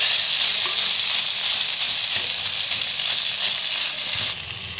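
Mashed boiled potato frying in butter in a kadhai, giving a strong, steady sizzling hiss with faint stirring scrapes that drops sharply in level near the end.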